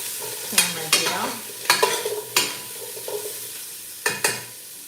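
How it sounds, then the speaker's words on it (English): A spoon stirs a nut butter mixture in a cooking pan, giving several distinct scraping strokes in an uneven rhythm over a faint steady sizzle, close and moderately loud with no talking. "Oh, let me stir."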